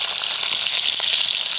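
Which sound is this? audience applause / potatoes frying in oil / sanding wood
potatoes frying in oil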